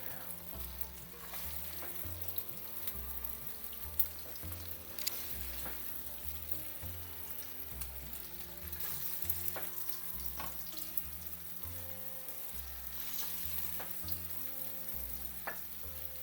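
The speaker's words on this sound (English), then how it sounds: "Now let it fry." Chicken mince cutlets sizzle steadily in a hot frying pan, a constant crackling fry with occasional louder pops and faint clinks, no talking.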